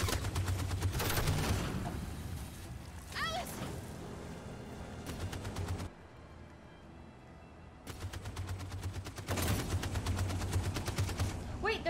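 Rapid bursts of automatic gunfire from a shootout in the video game Detroit: Become Human, loud repeated volleys separated by a brief quieter gap, with a player talking over parts of it.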